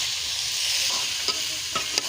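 A jackfruit dish is stirred in a pan over a steady sizzle, with a few soft scraping strokes of the utensil against the pan near the end and no voices.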